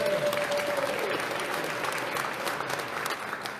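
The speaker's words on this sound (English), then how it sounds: "Please give a round of applause for Mayor Melvin Carter." An audience applauds Mayor Melvin Carter at African Heritage Day on the Hill in Minnesota, with dense, sustained clapping throughout and no speech over it.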